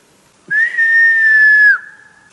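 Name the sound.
person whistling to call a companion in the forest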